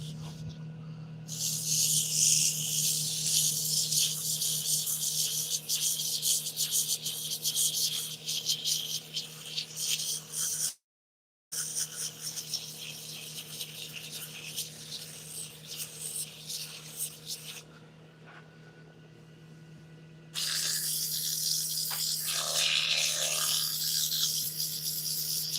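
Steady abrasive sanding hiss against wood spinning on a lathe, with a low motor hum underneath; one brief pause in the middle, continuing close and even.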